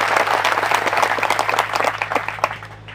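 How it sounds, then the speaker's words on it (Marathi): Audience at a meeting of village leaders breaking into loud, sustained applause, a thick crowd of clapping hands with sharp individual claps standing out, fading slightly toward the end. "एकदा त्यांच्यासाठी हात उंचावून जोरदार टाळ्या झाल्या पाहिजे."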